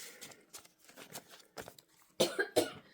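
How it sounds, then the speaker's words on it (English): Several sharp, harsh coughs, close by, starting as scattered short bursts and ending in a louder cluster of two or three hacking coughs. "I have a little bit of a cough right now."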